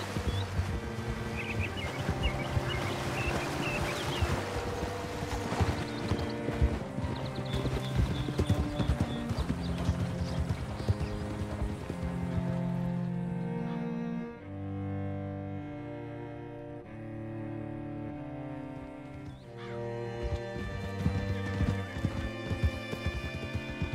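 Hooves clip-clop at a steady walking rhythm in Red Dead Redemption 2, the horse close and clear over a layered game music score, with no talking.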